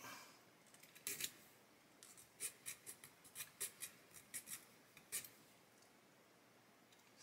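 A hobby knife carefully cuts a part from a 1/32 scale HKM A-20G Havoc plastic model kit, giving a series of faint, short scraping clicks in an uneven rhythm, close up and alone.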